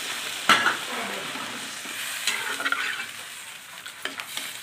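Water added to a Bengali fish curry in a hot pan, an initial sharp hiss followed by softer bubbling sizzle and occasional scrapes of a spoon against the pan.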